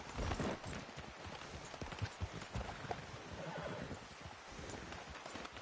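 In Red Dead Redemption 2, a horse whinnies loudly near the start amid galloping clip-clop hooves, and the hoofbeats carry on through a noisy outdoor ride.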